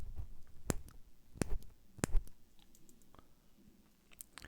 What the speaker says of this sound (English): the clicking sound when you push the buttons, it is extremely satisfying